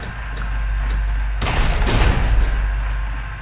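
A heavy turret cannon fires in the simulator game Iron Nest: a deep, loud boom over a low rumbling engine hum, followed by a rolling, crackling tail of reverberation.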